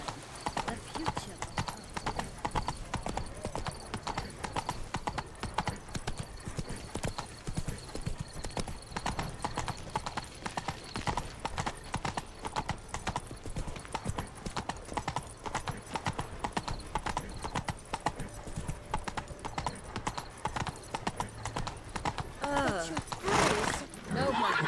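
Horse hooves from The Witcher 3 clip-clop in a steady, continuous rhythm for the whole stretch, joined by a brief whinny, with voices talking over them and a sharper burst near the end.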